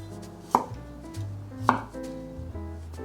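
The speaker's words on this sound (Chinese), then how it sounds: "把小黄瓜切成滚刀块。" A knife chops an organic cucumber into roll-cut chunks on a board: three sharp, evenly spaced chops, close and clear, over faint background music.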